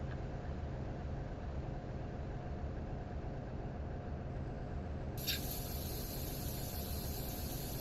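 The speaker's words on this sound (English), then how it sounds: "let's release the brakes." Air brakes releasing on a New York Central train in Train Simulator on the Boston to Albany route, a sharp high hiss that starts abruptly midway and holds over a steady low locomotive rumble.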